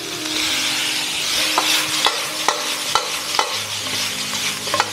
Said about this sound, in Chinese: 现在我们爆香之后改中火，把我们的排骨倒入。